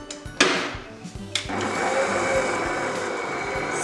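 An electric mixer whips meringue for cupcakes while sugar is added, starting with a few knocks and clatters, then settling into a loud, steady motor whir close by.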